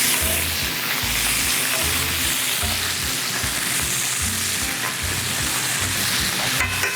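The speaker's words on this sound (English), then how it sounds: "We're gonna flip them over. They got a nice sear on them." Lamb chops sear in a hot oiled pan, hissing and spitting loudly and continuously, with occasional low thumps and scrapes as they are moved about.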